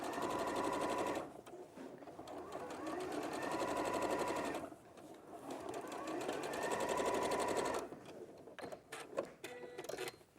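A domestic sewing machine runs close by, stitching a seam along a pocket lining edge for culottes in long steady whirring bursts with short pauses between them, ending in a few quick stops and starts.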